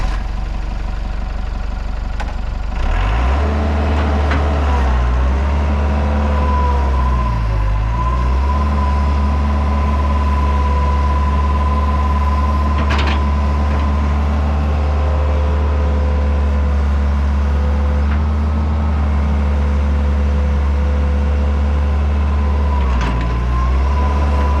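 A previously abandoned Hitachi excavator's diesel engine idles loudly and steadily up close, its deep rumble holding constant with a couple of brief revs and small mechanical clanks.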